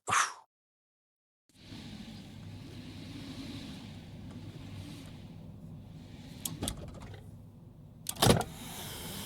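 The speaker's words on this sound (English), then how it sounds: "You're supposed to be getting into a car." Car sounds in a song: a short click, a pause, then a steady mechanical hum like a car door or window, with a couple of sharp clunks near the end.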